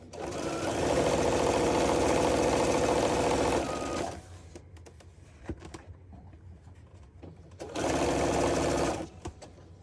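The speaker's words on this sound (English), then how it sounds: "I'm using the 1/4 inch seam foot on everything so it's all consistent." A sewing machine fitted with a 1/4 inch seam foot stitches quilt pieces in two loud, close bursts of steady whirring, separated by a quieter pause with light handling clicks.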